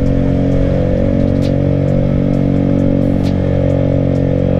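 A Honda Vario 150 scooter rides along a road near Bogor, its engine droning loud and steady with a constant hum, while faint clicks and rattles come through and no one speaks.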